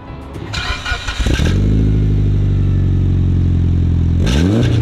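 A Mitsubishi Lancer Evolution VIII cranks and fires up, settles into a loud, steady idle up close, then gets a short rev near the end.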